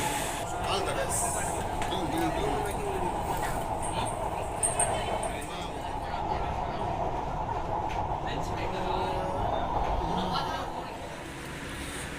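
A Chennai metro train runs with a steady loud rumble throughout a ride inside the carriage, while people talk and laugh over the noise.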